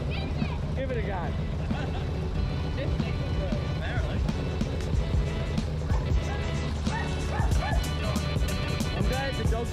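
A dog barks and yips repeatedly amid a busy, noisy background of crowd babble and passing traffic.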